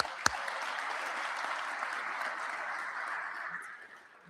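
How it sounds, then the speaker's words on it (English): Warm, sustained applause from the audience at a police promotion ceremony, even and dense for several seconds before tapering off near the end, with one sharp knock at the start. "So big round of applause for that."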